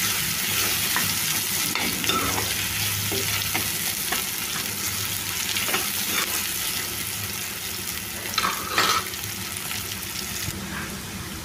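Onions and ginger-garlic paste with turmeric fry in a pan in a continuous close sizzle, with occasional scrapes and clinks of a spoon stirring through it.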